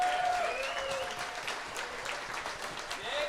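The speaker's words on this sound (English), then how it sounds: "If we could just give him another round of applause." Wedding guests applauding a best man's speech, a moderate spread of clapping heard from some distance, with whistles or voices rising over it.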